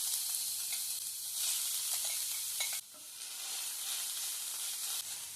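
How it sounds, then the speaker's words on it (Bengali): Boiled watermelon rind hits hot oil in a pan and sizzles steadily up close, with stirring scrapes and small shifts in the frying hiss throughout. "এবার দিয়ে দিচ্ছি সেদ্ধ করে রাখা তরমুজের সাদা অংশ।"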